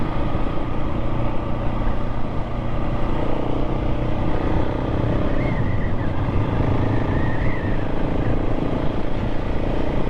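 KTM 690 SMC-R single-cylinder supermoto motorcycle being ridden, a loud, steady engine drone with rushing wind noise running throughout, heard up close with no speech.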